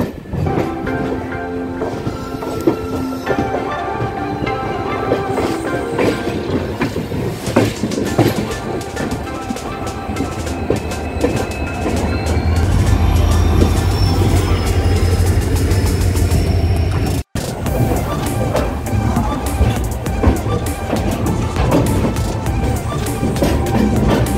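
A Shalimar–Puri special passenger train rolls into Kharagpur station, its low rumble and rail clatter steady nearby, swelling into a heavier drone partway through before a brief cut, with no talk.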